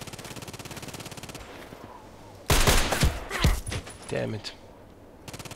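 Sniper gunshots in a video game, a loud cluster of sharp shots and impacts in the middle, framed by a quieter buzzing ambient loop, with a brief spoken exclamation.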